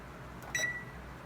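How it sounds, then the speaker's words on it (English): An oven control panel beeps once as the oven is set to 350 degrees, a single short electronic tone over a faint room hum, with no speech. "Okay, oven set and on. So 350, 45 minutes"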